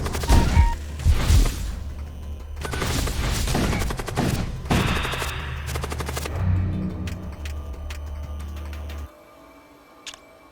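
Ship weapons in the space strategy game Void War, fitted entirely with lances, unleash a rapid barrage of loud, overlapping blasts and crackling impacts over several seconds, which cuts off abruptly and leaves a quiet tail with one faint late pop.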